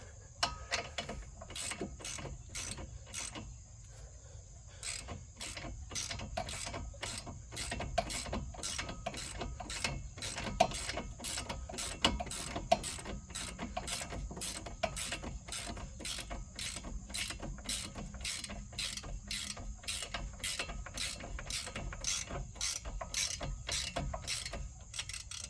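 A ratchet with a 15 mm socket tightens bolts on a 2018 Honda Civic Sport, with rapid, even clicking running close and steady across the whole stretch and only brief pauses.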